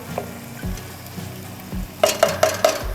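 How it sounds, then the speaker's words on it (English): Sausage browning in a pan for an Italian rigatoni dish gives a steady close sizzle, with a few sharp clinks of a utensil against the pan near the end. "So my sausage is browning"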